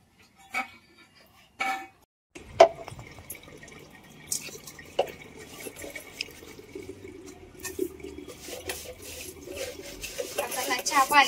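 Dishes for tea and water being scrubbed and rinsed in a household, with dripping and splashing from a tap and scattered clinks of utensils growing steadier and louder toward the end.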